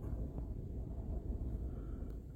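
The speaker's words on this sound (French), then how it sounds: "il y a énormément de vent" Strong wind buffets an outdoor microphone at an open, dry spot facing a Portuguese town, a steady low roar that fills the whole stretch with no speech.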